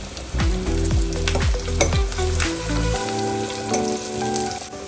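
Jackfruit 65 pieces deep-fry in hot oil with garlic and curry leaves, a loud close sizzle and crackle with stirring clatters and sharp pops throughout, no talking.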